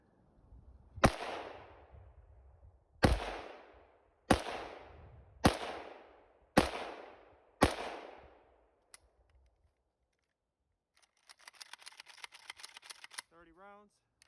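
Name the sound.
AKM rifle firing after snow in weapon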